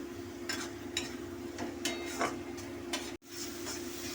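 Tomato and spice paste cooks in a pan with a soft background sizzle, a low steady hum, and a series of light scraping stirs before a brief cutout.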